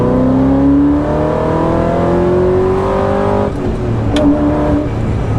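A mid-engine Ford GT accelerates hard from close by, its exhaust roaring loud and continuous with rising engine pitch and a brief shift break partway through.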